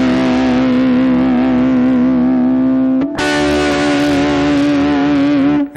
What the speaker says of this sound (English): you might play a simple chord and just shake the bar a little bit